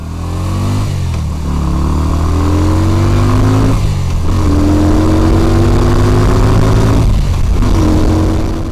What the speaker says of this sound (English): let me show you what a full acceleration looks like on the Yamaha V-Star 250